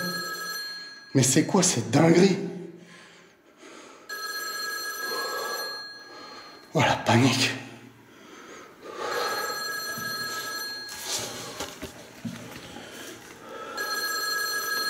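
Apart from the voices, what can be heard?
telephone bell ringing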